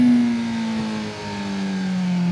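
A Suzuki GSXR 600 motorcycle engine revs as the throttle is rolled on, a close, loud, smooth mid-pitched drone that dips slightly midway and then holds steady.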